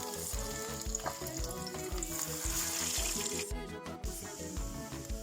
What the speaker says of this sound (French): Maintenant on va passer à la friture.